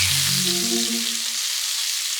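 Blackened chicken sears in a hot pan, a steady close sizzle and crackle of frying that runs alone without any voices.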